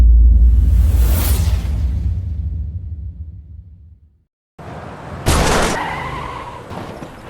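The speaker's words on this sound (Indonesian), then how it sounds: "semua mobil yang kehilangan kendali karena salah satu bannya tiba-tiba meletus" Cars skid out of control after a sudden tire blowout in a film scene. A loud, broad rushing skid fades over about four seconds into a brief silence, then a sharp impact-like burst and further harsh scraping noise.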